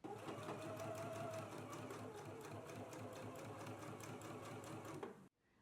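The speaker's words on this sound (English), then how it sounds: "let's go ahead and do some gathering stitches now" Sewing machine running continuously at long stitch length for gathering stitches, a steady fast mechanical whir and needle chatter up close, stopping abruptly near the end.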